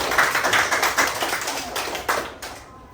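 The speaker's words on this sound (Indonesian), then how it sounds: "Ya, kita kasih tepuk tangan untuk temannya ya." Classroom applause for a student group after their presentation, a room of students clapping in a brisk, steady patter that tapers off near the end.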